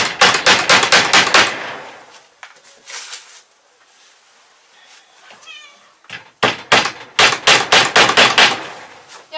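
Long wooden slats are hammered in while a fireplace is built at home, bursts of rapid, sharp, close blows in quick runs with pauses between, and a cat meows softly during the lull.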